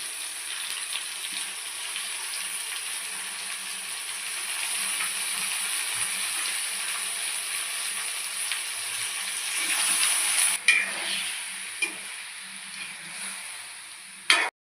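Marinated meat hits a pan of browned onions with a touch of sugar, sizzling and frying steadily and loud, with bursts of stirring near the end; no one speaks.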